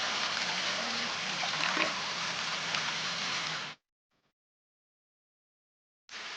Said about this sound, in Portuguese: a água desce pela rocha, criando um cenário muito bonito